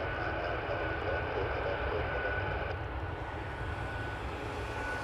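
Boeing 737 Max 8 airliner in its landing flare at Toronto Pearson, a steady loud engine roar with broadband rumble throughout, close and continuous.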